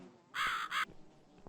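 In the video game The Cat Lady, a crow gives two harsh, raspy caws in quick succession, loud and close, over a quiet low background.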